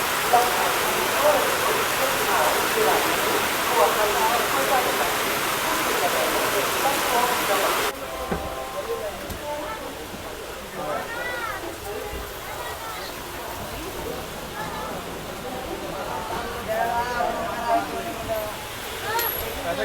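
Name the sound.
heavy rain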